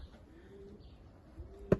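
Domestic pigeons kept by a fancier in Kırıkkale give faint, low cooing close by, with a single sharp click near the end.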